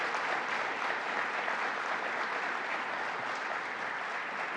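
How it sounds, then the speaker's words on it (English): Audience applause at a Central New York state budget announcement, a dense, steady wash of clapping heard alone and sustained throughout. "So let's give them another round of applause."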